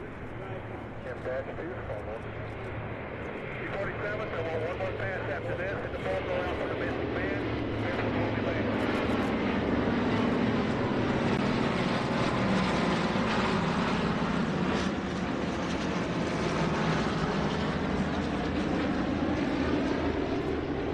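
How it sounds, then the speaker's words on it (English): A formation of five C-47 and DC-3 propeller transport warbirds at an air show: a loud, steady piston-engine drone that swells as the planes pass close and then holds for the whole stretch. "The main feature of the Transport Warbird segment was, as usual, a formation of C-47s and DC-3s"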